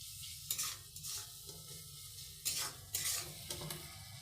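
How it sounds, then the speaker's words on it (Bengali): Spice masala for a chicken curry with potato and papaya sizzles steadily in oil in a pan, with repeated louder scraping bursts as it is stirred; no voices. "বন্ধুরা দেখতেই পাচ্ছেন মশলাটা কষছে।"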